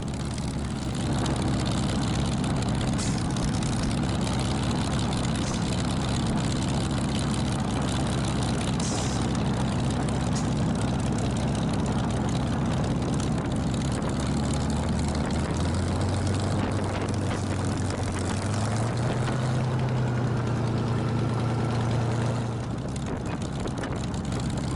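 A Supermarine Spitfire taxis on a hot day with its propeller engine running, a loud continuous low drone and rumble throughout, its tone rising and shifting near the end.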